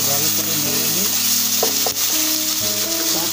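Ginger paste and bay leaf fry in oil for a Bengali prawn and ash gourd curry. A loud, close sizzle carries stirring scrapes, with music playing underneath.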